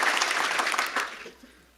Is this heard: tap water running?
no